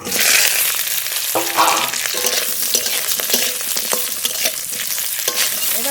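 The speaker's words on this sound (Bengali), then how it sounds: "ফড়নের উপরেই ভেজে রাখা জিওর মাছ দিয়ে দেবো" Fried stinging catfish going into hot oil over a tempering of bay leaf, radhuni and whole cumin, with a loud, continuous sizzle and crackle, punctuated by stirring scrapes and clinks, no voices.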